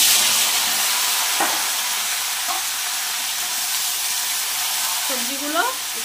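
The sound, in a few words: vegetables frying in oil with five-spice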